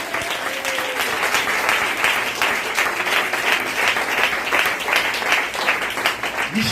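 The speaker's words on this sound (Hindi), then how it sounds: "ताली बजाकर सेलिब्रेट करें।" A church congregation applauds together, a loud, steady wash of many hands clapping that holds throughout, with a sustained tone sounding beneath it.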